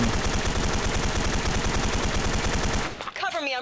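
Fast automatic rifle fire from Special Force 2, fired while moving without aiming, a steady rattling stream of shots that stops abruptly near the end, followed by faint mechanical clicks.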